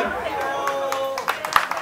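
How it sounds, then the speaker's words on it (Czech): Clapping for Markéta Bambuchová at an accordion players' gathering in Cvrčovice, a short burst of applause from a small crowd heard alongside background chatter, with sharper hand claps toward the end. "Ještě jednou potlesk a myslím, že to stojí za to."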